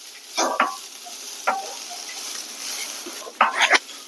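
Green chilli, curry leaves, dried chilli and garlic sautéing in a pan, with bursts of crackling sizzle and stirring scrapes in three distinct clusters over a quieter hiss, close and fairly loud.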